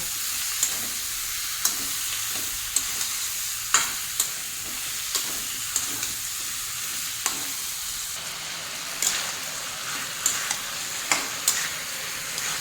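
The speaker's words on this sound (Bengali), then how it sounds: "সবজির সঙ্গে মাছ এবার ভালো করে মিশিয়ে আরও মিনিট 5 আমি ভালো করে কষিয়ে নেব।" Dried fish and winter vegetables stir-fried in a pan: a soft, continuous sizzle with regular spatula scrapes and knocks against the pan, spaced about a second apart, close and fairly quiet.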